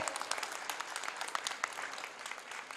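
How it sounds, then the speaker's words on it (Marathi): Audience applause after a song performance at a family gathering, a dense, steady wash of many hands clapping together at moderate distance, sustained through the whole moment without pause. "सगळ्यांनी जोरदार टाळ्या वाजवून त्यांना एकदा शुभेच्छा देऊयात."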